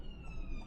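An ambulance siren heard from inside a car on a driving test, a faint, steady wail far off beneath low engine and road rumble.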